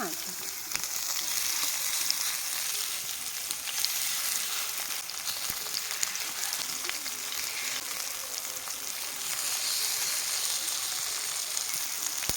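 Fish and eggplant pieces frying in a pan: a steady, dense sizzle with fine crackles and spits that holds at an even level throughout, close and without talk.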